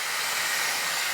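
A Dyson Airwrap hair styler blows air in a steady, loud, close broadband whoosh with an even rushing hiss and no speech.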